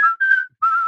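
A person whistles a short tune in clear, pure tones, two phrases separated by a brief pause, close and fairly loud with no other sounds.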